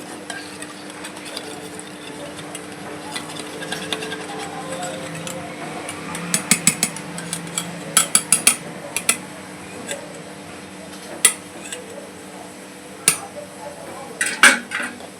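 A spoon beats egg batter in a bowl with a soft, continuous swishing churn, which turns into bursts of sharp, rapid clinks against the bowl's side toward the middle and end.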